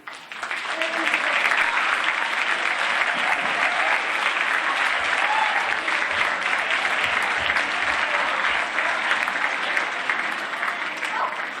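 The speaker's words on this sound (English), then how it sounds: "Let's hear one more big round of applause for our orchestra, please." A school orchestra's audience at a middle school winter instrumental concert breaks into sustained applause, a thick, loud roar of many clapping hands that holds steady for over ten seconds before tapering slightly at the end.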